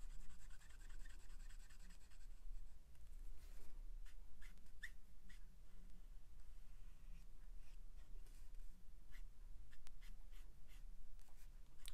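Markers color in a simple coffee-and-cream sketch on paper: a steady run of close, soft scratchy strokes with quick back-and-forth rubbing and occasional sharper ticks, without speech.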